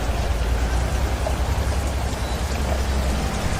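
Rain falls in a dense, steady hiss, loud and close with no breaks and no voices, a constant wash of drops.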